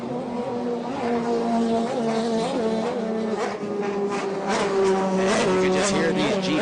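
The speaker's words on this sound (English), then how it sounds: "And you can just hear these GP boats fly by for those of you listening in." GP personal watercraft racing boats on Lake Havasu roar past in a steady, overlapping drone of high-revving engines, with rising and falling pitch as they fly by. A voice talks over the engines.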